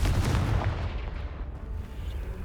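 A Confringo blasting spell in Hogwarts Legacy slams into a pile of debris blocking a castle stairwell, a heavy booming explosion up close followed by a rumbling, crackling decay.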